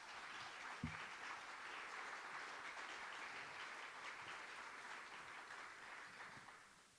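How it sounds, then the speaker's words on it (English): A mayoral debate audience claps steadily in a continuous wash of applause, moderately distant, fading slightly toward the end. "Audience, can I have a round of applause for those up on stage tonight?"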